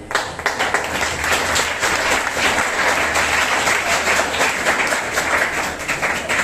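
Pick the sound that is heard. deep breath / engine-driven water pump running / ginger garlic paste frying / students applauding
students applauding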